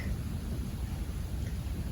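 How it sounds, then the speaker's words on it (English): Soft, steady rain falls with a low, continuous rumble like distant thunder beneath it, faint and unbroken throughout. "the rain began to fall from the heavens"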